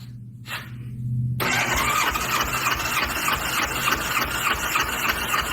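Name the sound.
1986 Honda Goldwing engine cranking during compression test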